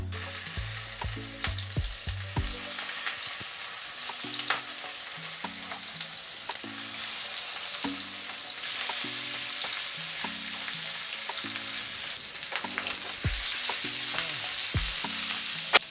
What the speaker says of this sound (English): I'll be adding the coconut oil. Very small amount of coconut oil, or it can be any oil of your choice. And at this point, my fish will be going inside.